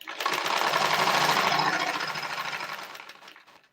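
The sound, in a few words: sewing machine running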